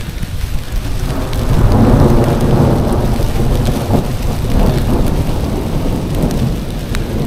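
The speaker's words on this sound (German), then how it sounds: "Also Blitz und Donner haben wir jetzt gerade hier." Heavy rain pours steadily through a summer thunderstorm in North Rhine-Westphalia during a long-distance hike, with deep rolling thunder rumbling repeatedly underneath, loud and close, and no voices.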